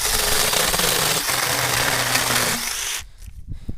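A loud, buzzing small power saw cuts bush branches continuously for about three seconds, then cuts off, leaving quieter rustling and handling noises.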